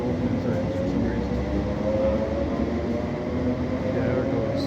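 A ScotRail class 318 electric train departing, with a steady low rumble and motor hum that holds evenly throughout, fairly loud and close.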